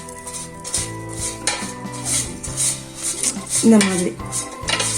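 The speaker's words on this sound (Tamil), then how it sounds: "எடுத்து லைட்டாக மேலே ஒரு கிளறி விட்டு ஆயில் அப்ளை பண்ணிடலாம்" Spoon scraping and stirring food in the metal basket of a Koryo 2.6L digital air fryer, with clinks and soft scrapes close by under a little talk.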